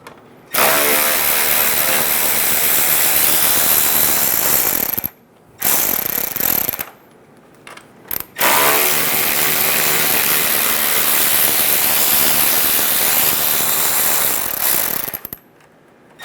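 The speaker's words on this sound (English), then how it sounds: "Using a 10mm socket, we're going to remove the 4 bolts on the bottom of the grill." A power tool with a 10mm socket spins off the four lower grille bolts on a 2014-2018 Chevrolet Silverado 1500. Loud close ratcheting bursts run several seconds each, separated by brief pauses.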